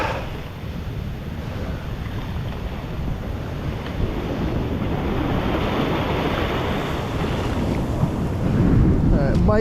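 Ocean surf breaking and washing in at a beach, a steady roar of waves with wind buffeting the microphone and a larger surge building toward the end.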